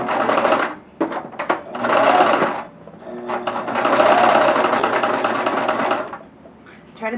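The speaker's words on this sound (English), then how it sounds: "we are going to go ahead and sew this down 1/4 inch from the edge all the way around" A sewing machine runs in two long bursts of rapid, steady stitching, stitching a passport cover a quarter inch from the edge. The stitching is close and fairly loud, with short pauses between the runs.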